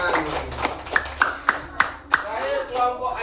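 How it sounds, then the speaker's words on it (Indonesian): Schoolchildren in a classroom clap for classmates during a lesson, a quick run of sharp, separate hand claps at an uneven rhythm, heard close with voices chattering underneath. "Tepuk tangan buat temennya dulu"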